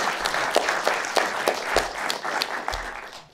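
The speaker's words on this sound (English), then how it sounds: "So please give her a round of applause." A conference audience at a documentary industry talk applauds steadily, a dense patter of many hands close in the room that fades out at the end.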